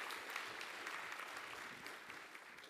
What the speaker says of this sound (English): And quick round of applause.